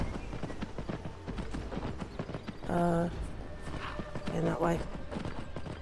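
Horse hoofbeats in Skyrim VR make a rhythmic clip-clop at a steady gait, with a couple of brief tonal game sounds and someone speaking over it.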